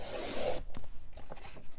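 Scissors snip through peach solid pattern paper at a craft table in a quick, close, scratchy rasp, followed by softer rustling of the paper.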